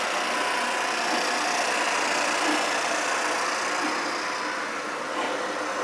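A Fitzpatrick model DM roll compactor drive runs with a steady, loud mechanical hum and whir, constant and close throughout with no breaks.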